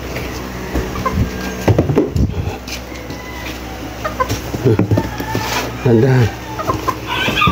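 Hens cluck in short bursts close by, mixed with a person talking and some handling noise in the background.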